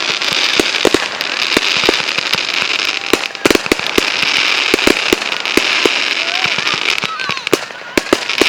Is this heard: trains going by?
no